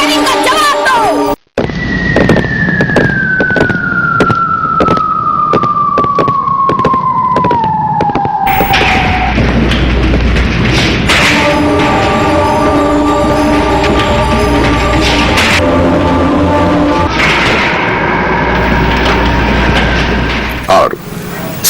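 A battle scene from a short film about Uda Devi at Sikandar Bagh, with loud, dense gunfire and explosions. A descending siren-like whine and a long rumbling roar run under the rapid cracks.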